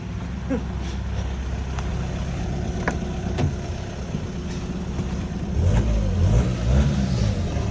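A car engine fitted with aftermarket exhaust pipes idles with a low rumble, then revs louder and deeper toward the end, nearby, with a few faint clicks.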